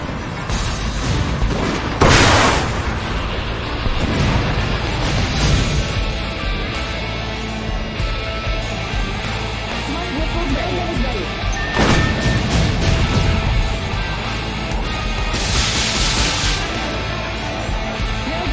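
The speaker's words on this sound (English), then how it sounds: "He's firing the particle cannon!" A sci-fi mecha game's particle cannon fires amid explosions, heavy booms and crashing blasts recurring loudly over a constant roaring battle bed.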